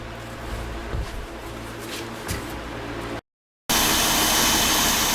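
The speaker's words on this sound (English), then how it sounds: "Okay, the engine is started up." A 2006 Volvo S40 engine runs with a steady loud drone after an alternator replacement, briefly cuts to silence, then returns as a harsher, louder roar.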